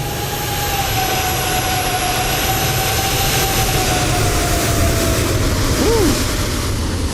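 A Boeing 747 landing in a flight simulator game roars loud and continuous with thrust reversers deployed, a steady jet-engine rumble with whining tones throughout.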